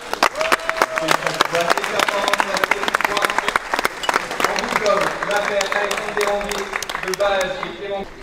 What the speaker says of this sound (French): vous avez le droit de les applaudir